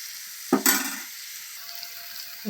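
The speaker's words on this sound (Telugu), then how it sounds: "టమోటాలు వంకాయలు ఎండి చేపలు మగ్గుతున్నాయి" Tomatoes, brinjal and dried salted fish cooking in a pan, a steady sizzle with a louder burst of hissing and stirring partway through, no talk.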